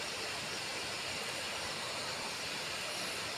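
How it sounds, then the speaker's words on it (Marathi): Nivsa waterfall deep in the forest along the Shoolpaneshwar parikrama route, heard as a steady, dense broadband roar of falling water with no variation and no voices. "हा निवशाचा धबधबा निवसा धबधबा असं याचं नाव आहे"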